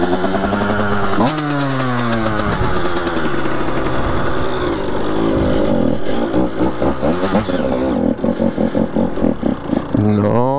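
A motorcycle that has not been started in a while idles unusually high. Its engine runs loud and close, surging and revving with changing pitch, and then settles into a fast, choppy running beat toward the end.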